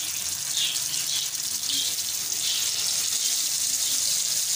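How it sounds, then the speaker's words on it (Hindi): Beef skewers hiss and sizzle in hot oil in a frying pan, a steady bright crackle holding evenly throughout without any voices. "यहाँ पे ऑयल हमारा गर्म हो चुका है। तो अब इसके अंदर हम एक एक सीख पकड़ के डालेंगे।"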